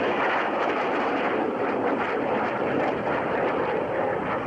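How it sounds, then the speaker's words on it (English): CF-5 jet in an afterburner turn at an outdoor airshow, a loud continuous roaring rumble from moderate distance, broad and steady throughout with wind-like texture and no talk. "a slanted 360-degree afterburner turn"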